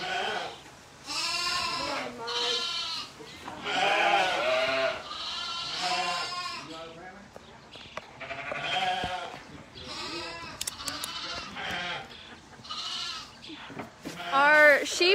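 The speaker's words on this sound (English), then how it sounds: "the baas almost sound like humans" Sheep bleating loudly at a shearing event, repeated wavering baas coming in quick succession at close range, some almost human-sounding, with occasional people talking underneath.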